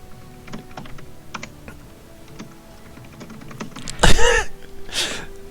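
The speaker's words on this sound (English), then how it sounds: "I hear you typing angrily on your keyboard." Angry typing on a computer keyboard during a live online gaming match, with scattered close key clacks and a short burst of noise near the end, no speech.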